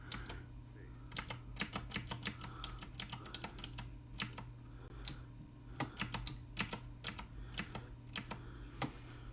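Rapid, uneven clatter of computer keyboard typing while code is edited, crisp individual keystrokes and short bursts close up over a faint steady hum, with no talking.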